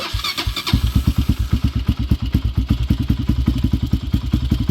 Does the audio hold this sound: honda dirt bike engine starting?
yes